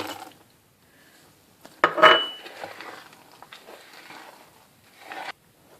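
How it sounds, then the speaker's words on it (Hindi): Carrot cake batter with oil and walnuts is stirred in a bowl, giving soft intermittent scraping and one sharp metallic clink. A few more light knocks of the utensil against the bowl follow in an otherwise quiet room. "अब मैं इसमें तेल और अखरोट डाल के अब मैं मिक्स करूंगी।"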